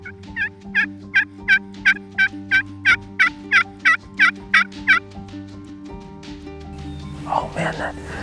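Wild turkey gobbles or yelps in a steady series of about fifteen sharp, evenly spaced calls, loud and fairly close, with a low steady hum underneath and faint talk near the end.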